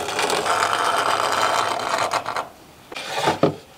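A combination square's scribe point scratches a marking line in a steady rasping drag for about two and a half seconds, then a couple of shorter scrapes follow, close up with no talking.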